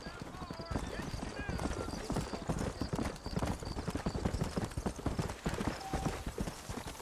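Rapid, rhythmic hoofbeats of a galloping horse in the video game Red Dead Redemption continue throughout, with an occasional whinny and voices talking now and then.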